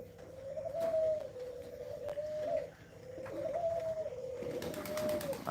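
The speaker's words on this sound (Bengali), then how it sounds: "এই যে কবুতরগুলা বাইরে রয়েছে দেখেন কত সুন্দর যেহেতু গোসল করছে সকালবেলা" Pigeons cooing outdoors in the morning after bathing, a steady run of soft, rolling coos repeating close by with no talk.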